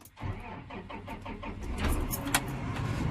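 A 2017 Case IH Magnum 250 tractor engine cranks briefly with a rhythmic starter churn, then catches and settles into a steady, close diesel rumble.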